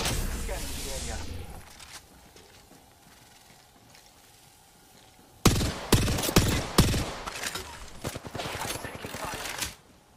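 Bursts of rapid automatic gunfire crackle in a video game firefight, starting after a quieter stretch and then coming in several loud, clustered volleys that break off abruptly; a player talks over the early part.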